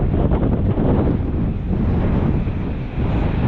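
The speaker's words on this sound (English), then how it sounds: "That's a gust and a half." A strong gust of wind on the water during a fishing trip after a cold change buffets the microphone with loud, continuous roaring rumble that barely eases from start to finish.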